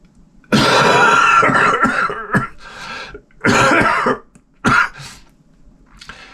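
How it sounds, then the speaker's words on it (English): A person coughs in several harsh, wet bursts close to the microphone, with throat clearing between fits and a fainter cough near the end. "I have a perpetual cough now."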